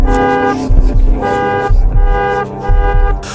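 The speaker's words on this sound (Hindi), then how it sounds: "आते ही कार ने जोर से हॉर्न दिया।" A car horn honks loudly and repeatedly in short bursts, close by, with engine rumble underneath.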